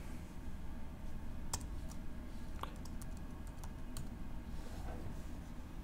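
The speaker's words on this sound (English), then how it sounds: "And you just start typing" Soft, irregular keyboard clicks tap away over a steady low background hum, quiet and close, with no talking.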